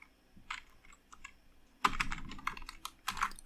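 Typing on a computer keyboard: a few scattered soft key taps, then a quicker flurry of crisp, close clicks and clatter in an irregular rhythm, with no talking.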